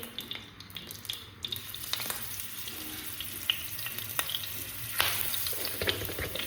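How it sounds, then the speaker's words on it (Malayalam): Tuna pieces fry in sunflower oil for a Kerala-style tuna curry, giving a steady close crackling sizzle with sharp pops and spatters scattered throughout and no voices. "ഓരോ പീസ് വെക്കാൻ തെറിക്കുന്നു."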